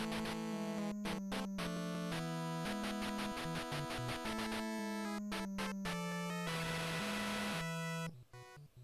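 A stage-clear jingle from the NES game Trojan, bright chiptune square-wave notes in a quick stepping melody with a buzzy noise-channel burst near the end, played alone and fairly clean.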